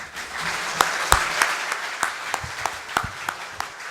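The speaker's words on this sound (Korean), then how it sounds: "박수로 환영해 주시기 바랍니다." Seminar audience clapping to welcome a speaker at a Korean plasma technology policy event, a sparse, moderate patter of hands with a few sharper individual claps standing out across the few seconds.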